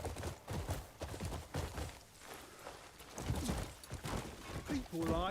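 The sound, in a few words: horse hooves from a video game, Crimson Desert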